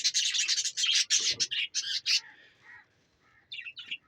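Black-winged, black-faced bird chicks chirping in rapid, loud bursts of high tweets, a dense run of calls that pauses briefly before a few more chirps close by.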